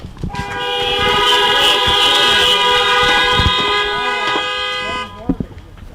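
Car horns honking together at an outdoor community action rally, a sustained blaring chord of overlapping horns lasting several seconds before cutting off.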